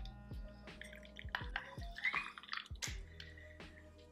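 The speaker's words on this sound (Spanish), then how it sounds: "Voy a agregar un cuarto de taza de agua caliente." Hot water poured into a matcha latte in a home kitchen, a quarter cup splashing and dripping in quick bursts with soft liquid trickles and small clinks, close and fairly quiet, no talking.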